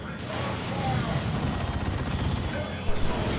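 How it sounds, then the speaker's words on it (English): An assault cannon fires in Warhammer 40,000: Dawn of War 2, a dense rattling burst of rapid shots amid battle noise, sustained throughout with a couple of heavier thumps near the end and a commentator speaking over it. "Guardsmen being torn up by the assault cannon there."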